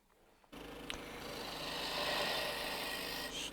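Steady rasping hiss of a lathe gouge taking a push cut on a spalted maple hollow form, starting abruptly after a brief quiet hum and continuing evenly, fairly faint, with no talk.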